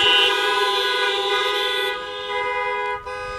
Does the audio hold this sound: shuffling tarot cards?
no